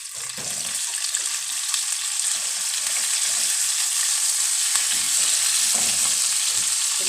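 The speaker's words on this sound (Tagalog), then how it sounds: "Ilalagay ko na yung chicken." Chicken frying in a pan with onion and garlic, a loud, steady close-up sizzle with crackling spatter and occasional stirring scrapes throughout.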